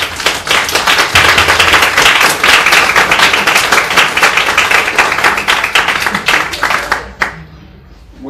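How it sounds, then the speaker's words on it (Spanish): Loud, close audience clapping greets a speaker at a talk, a dense burst of many hands that runs for several seconds before cutting off abruptly into near silence. "Un aplauso para él."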